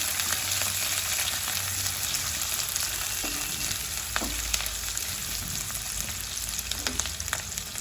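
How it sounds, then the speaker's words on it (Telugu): Onions with dried red chillies and green chillies frying in a pan, a steady bright sizzle with occasional stirring scrapes and clinks, close by and without talking. "ఒక 1 minute మగ్గిద్దామండి ఉల్లిగడ్డల్ని."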